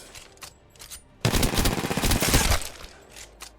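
Rapid automatic gunfire in the Apex Legends video game, a single dense burst of about a second and a half, loud and close, framed by quieter scattered shots and game ambience.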